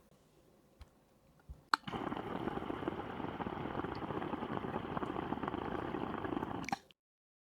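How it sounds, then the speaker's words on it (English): A 77-hole POD diffuser sends fine bubbles through water, starting after a few faint knocks with a sharp click, then a steady, dense fizzing bubble for about five seconds before it cuts off, with no one talking. "You can hear that the bubbles are smaller and they don't pop as loudly."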